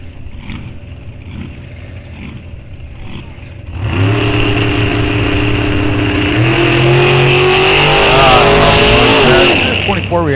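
Dragster making a licensing pass at Rock Falls Raceway test and tune: a quieter rumbling idle gives way to a loud, sustained engine roar with rising harmonic sweeps, close and dominant throughout.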